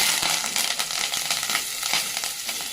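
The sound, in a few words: frying garlic pieces, curry leaves and green chillies in oil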